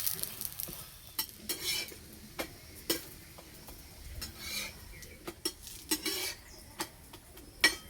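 Coconut-stuffed layered parathas fry slowly in a little oil over low heat, a soft sizzle broken by sharp clicks and scrapes of a utensil against the pan at irregular intervals.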